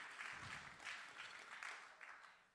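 Applause from a church conference audience, a steady wash of many hands clapping at a distance, fairly faint and rising and falling in soft waves.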